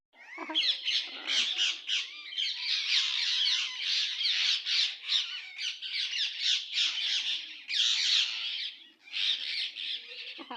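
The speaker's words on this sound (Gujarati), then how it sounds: "કેવા મસ્ત છે પોપટ આયા મારા ઘરે" Parrots squawk and chatter continuously at close range, a busy, harsh stream of shrill calls with brief pauses.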